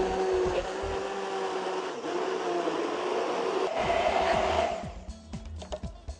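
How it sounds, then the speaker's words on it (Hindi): A blender whirs steadily through a chocolate banana milkshake made with honey, a loud continuous motor hum that stops near the end, leaving a few clinks and knocks. "इसको ब्लेंड करना।"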